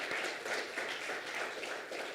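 Audience applause at a December 2023 college senate meeting: a short, fairly quiet burst of crowd clapping with rhythmic pulses, fading slightly at the end.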